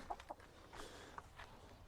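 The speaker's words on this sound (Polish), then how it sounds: "to są takie dosyć duże kury" Fairly large hens settle into a henhouse, giving a few soft, scattered clucks that sound faint and close in a quiet space.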